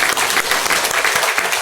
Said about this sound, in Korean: 우리 앞으로 믿음 생활 잘 할 수 있도록 격려의 박수 부탁드리겠습니다